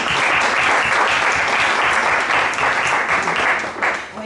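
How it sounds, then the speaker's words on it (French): Warm audience applause after a talk, dense sustained clapping at a steady loud level that tapers slightly toward the end. "il faut l'applaudir chaleureusement"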